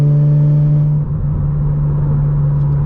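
A 2006 BMW Z4M with a six-speed manual gearbox drones loudly from inside the cabin as it accelerates. The engine holds a steady, heavy hum, with a brief dip about a second in as a gearshift goes through.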